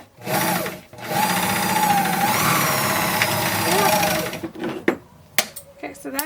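A serger overlock machine running along scalloped fabric edges, a steady fast mechanical whirring hum for several seconds, then stopping and giving way to short handling clatters and clicks.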